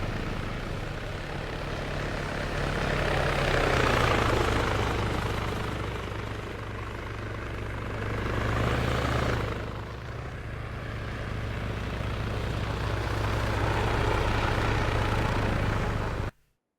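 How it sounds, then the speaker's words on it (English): A Little Bird light transport helicopter in the Arma 3 video game passes overhead, its steady rotor and turbine drone swelling louder around four and nine seconds before levelling off, with no voices heard. "This looks like Little Bird transport coming across."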